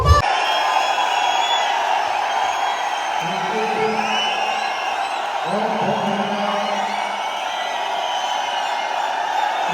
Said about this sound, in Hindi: दोनों हाथ ऊपर, जोरदार तालियां